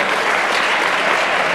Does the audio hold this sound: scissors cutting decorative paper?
no